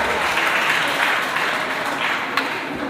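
Applause from the audience at a national junior debate championship final at a nursery and primary school, steady and dense crowd clapping that holds throughout without a break.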